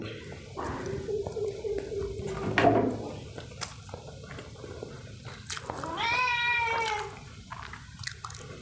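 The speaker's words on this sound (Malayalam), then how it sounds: "പൂച്ചക്ക പൂച്ചാശന്മാരൊക്കെ വന്നിട്ടുണ്ട്" A cat meows a few times nearby, short tonal cries with rising and falling pitch, over a steady background hiss and occasional clinks, indoors on a hot day.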